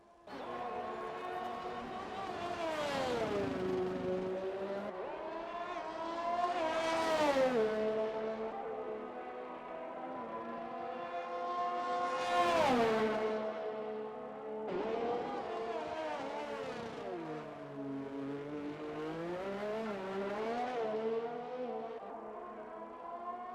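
A Ferrari race car engine in a racing game revs through repeated rising and falling gear sweeps, a high, sharp whine climbing and dropping several times at a steady, moderately loud level.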